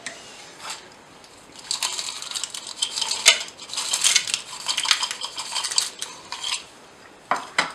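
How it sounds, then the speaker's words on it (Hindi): Crisp papdi wafers are crushed and scattered over chana chaat, making a run of irregular crunchy crackles and clinks, some sharp and close, with quiet gaps between bursts. "अब हम इसके ऊपर डालेंगे पापड़ी।"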